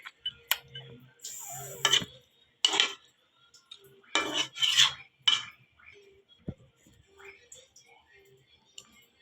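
Pangas fish curry with green banana and a pinch of garam masala is stirred in a pot, a spoon clinking and scraping against the metal in short, close bursts separated by quiet pauses.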